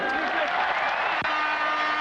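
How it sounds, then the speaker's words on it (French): A stadium crowd of Bordeaux supporters applauds as substitute Jean-Michel Ferri comes on in the 1994 France vs Czech Republic match, with a steady, dense roar of clapping and a commentator talking over it. "Très applaudi par le public des Girondins de Bordeaux."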